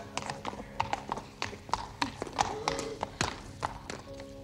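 Hooves clip-clop in an uneven, steady rhythm close by, sharp knocks over a soft background, with a faint voice in the distance.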